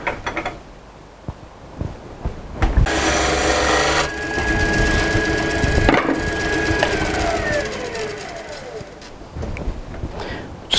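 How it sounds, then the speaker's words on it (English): A woodturning lathe tool cuts a tenon on a spinning wooden bowl blank, giving loud, close scraping and shaving bursts, strongest in the middle, with quieter turning noise before and after. "So we're going to make a tenon that's about that size."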